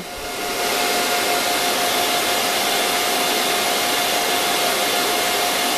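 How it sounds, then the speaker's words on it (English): IBM Power 720 Power7 server roaring as its fans blow loudly, a dense steady whoosh with a faint whine that swells up within the first second and then holds constant, close and loud. "Take these earplugs out so I can get a full sense of this server's noise."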